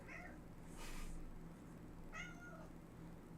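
Domestic cat meowing indoors: two short, faint meows about a second apart, heard over low room hiss with no talking.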